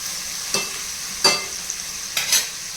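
Capsicum frying in a pan for pulihora, a soft continuous sizzle broken by three distinct spatula scrapes and stirs spaced about a second apart, close and alone.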